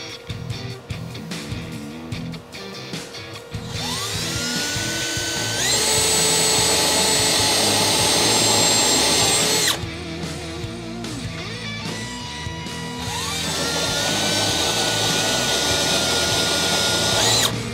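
Power drill bores out spot welds on rusty auto-body sheet metal, two long loud whining passes with rising pitch separated by a brief pause, close up and without talk.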